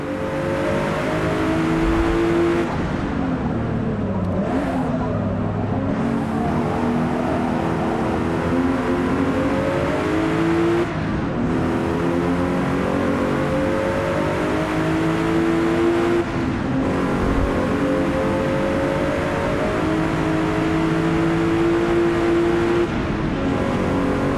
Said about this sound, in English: I'm going to let Tyler drive for a little bit here so you can kind of see the 4K 60 visuals and all of our remastered audio